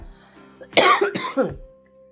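Two harsh coughs in quick succession, close and loud, from a person in a home kitchen while making Kerala-style ground-spice rasam, with near silence before and after.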